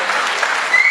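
A short, steady burst of clapping from a crowd at a training reunion event, even and moderately loud throughout the brief moment.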